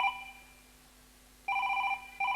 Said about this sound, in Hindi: फोन घलो बाजा थे